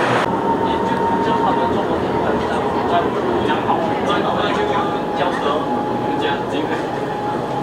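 An LRT/MRT train rides between Maluri and Pandan Jaya stations in Kuala Lumpur, its steady loud cabin rumble and wheel noise running throughout with people talking faintly over it.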